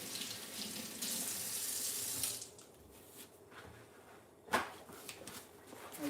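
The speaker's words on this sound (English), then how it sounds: "Let me wash these real fast." A kitchen tap runs loudly over green beans for about two seconds, then drops to a softer trickle with splashing and handling noises as the beans are washed.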